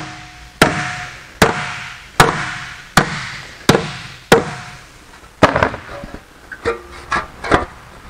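A hammer strikes an aluminum car bonnet panel for a Jaguar E-Type, six evenly spaced ringing blows followed by a quicker cluster of lighter taps, loud and close.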